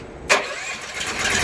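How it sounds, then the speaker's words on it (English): Small engine on a transfer pump, started with a little choke during a farm show demo, catches abruptly with a sharp burst and settles into a steady running drone close by. "Transfer pump fired up."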